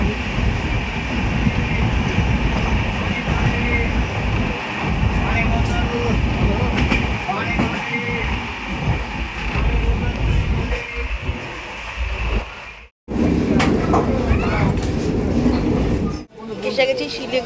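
A passenger train running on rails near Siliguri, heard from on board as a loud, steady rumble with rattling, a sharp brief drop-out partway through and voices talking over it.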